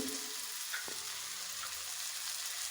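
Onions frying in a pan for poha, a steady low sizzle with faint clinks of stirring, close and even throughout, no talk.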